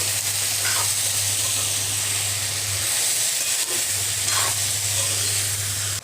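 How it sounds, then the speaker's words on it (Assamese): Spiced Assamese kunduli bhaji with coriander powder fries in a pan on a gas stove, giving a loud, steady close sizzle and hiss with a low hum beneath, uninterrupted for several seconds. "এতিয়া মই এইখিনি প্ৰায় 8 মিনিট মান ভাজি লম"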